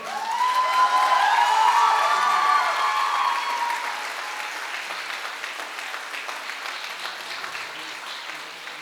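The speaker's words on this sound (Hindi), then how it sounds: "तो एक दिलीप सर के लिए तो एक ऐसी तालियां होनी चाहिए" Applause from an audience at a corporate event in India, a dense, loud burst of clapping with some cheering voices at the start that gradually thins and fades over several seconds.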